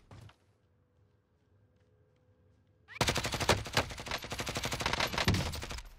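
Rapid automatic gunfire in the video game Warzone bursts in after a quiet stretch, a dense, loud, continuous rattle of shots lasting several seconds.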